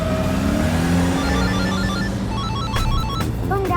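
A phone rings with repeated electronic tones over a steady rumble of a moving car, some faint voices in the background.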